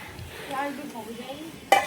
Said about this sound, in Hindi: और ये मैगी हमारी बन रही है अभी, ये देख लो